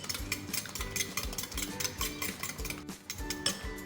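Eggs and fresh cream are beaten in a bowl, with quick, rhythmic clinks and taps of a utensil against the bowl, quiet and close.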